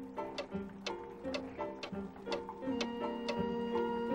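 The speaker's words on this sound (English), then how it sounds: "Look at all those clocks!" Clocks tick and tock in a steady rhythm, several sharp clicks per second, fairly quiet, with a faint hum in the background.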